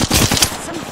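Rapid automatic gunfire from a firefight in the Apex Legends battle royale game, a dense burst of close, loud shots filling most of the moment before trailing off.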